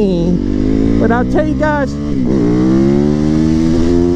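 A motorcycle engine revs loud and close, its pitch climbing and settling in a sustained throaty roar while someone talks over it.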